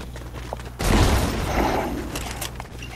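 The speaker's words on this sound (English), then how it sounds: "There's a lot of people shooting." Gunfire in Fortnite comes as a sudden loud boom and a burst of rattling shots that fade over a couple of seconds, with no voice over it.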